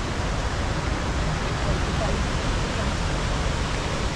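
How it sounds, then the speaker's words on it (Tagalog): Johnston Canyon waterfall in Banff, Alberta gives a steady, dense roar of falling water that stays loud and unbroken throughout. "So yan, isang falls dito."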